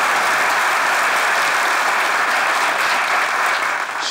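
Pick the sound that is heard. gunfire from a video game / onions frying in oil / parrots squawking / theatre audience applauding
theatre audience applauding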